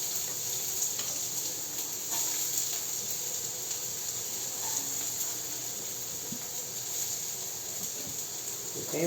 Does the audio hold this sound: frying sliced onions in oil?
yes